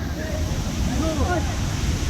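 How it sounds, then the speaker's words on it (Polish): A steady, broadband rush of falling water from a waterfall in Moalboal, Philippines, fills the scene, constant and close, with a voice faintly audible underneath. "Ostatni wodospad z serii wodospadów, czyli trzeci."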